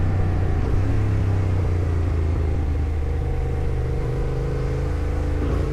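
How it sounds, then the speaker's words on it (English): Steady, loud engine and road rumble from a motorcycle riding through busy traffic, a continuous low drone with no talking. "Plenty of traffic out here today, man."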